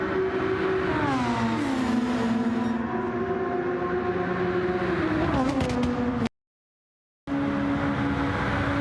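Formula 1 race cars in a racing video game roar past on a Kyoto street circuit, engine notes rising and falling as cars run side by side, loud and continuous before cutting out briefly near the end.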